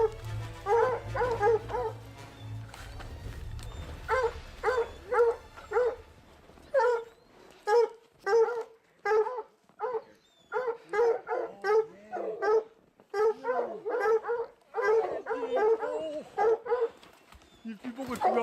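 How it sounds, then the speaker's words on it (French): Hunting dogs barking and whimpering in a mountain forest during a Canada lynx hunt, repeated sharp close barks and yips in bursts over a low engine-like hum at the start, with people talking at times. "on entend les chiens"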